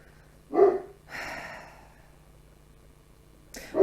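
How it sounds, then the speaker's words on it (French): A dog gives one short bark followed by a breathy, drawn-out huff, then another bark starts at the very end, heard fairly close over a faint low hum. "Oh, mon chien, je ne sais pas si vous l'entendez"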